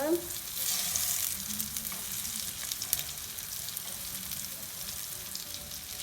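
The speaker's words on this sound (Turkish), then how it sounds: "Köftelerimiz kızarmaya başladı." Potato köfte patties frying in a pan, a close sizzle with crackling bursts and occasional stirring or shifting noises, steady throughout.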